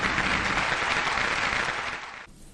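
Colleagues cheer and applaud at a farewell, a dense steady wash of clapping that fades and cuts off near the end.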